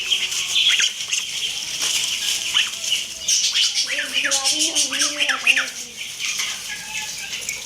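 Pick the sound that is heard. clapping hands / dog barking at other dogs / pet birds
pet birds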